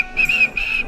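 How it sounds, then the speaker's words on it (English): A steam engine whistle in the train game Trainz sounds as one steady, shrill, sustained tone with a brief dip midway, loud and close, alone without talk. "James whistled at them, but they paid no attention"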